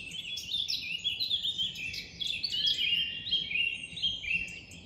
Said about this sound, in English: There's a song thrush mixed with blackcap.